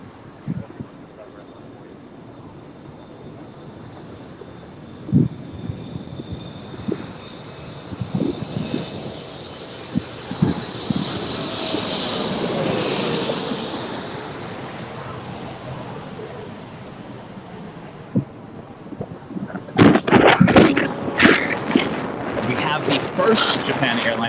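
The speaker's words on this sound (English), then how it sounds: "We have Japan Airlines Flight 16 coming in from Tokyo on a Boeing 777-300ER." A Japan Airlines Boeing 777-300ER arriving at LAX from Tokyo, its jet roar swelling in from a distance, peaking loudly overhead and fading, with wind buffeting and people talking around it.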